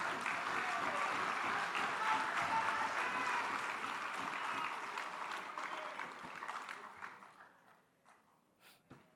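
Crowd applause and cheering at a Bersatu party general assembly in 2025, a dense sustained roar of clapping that gradually dies away into scattered claps near the end.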